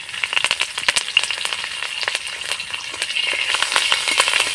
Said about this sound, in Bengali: নাড়াচাড়া করে আমি হালকা ভেজে নেব ফোড়নটাকে।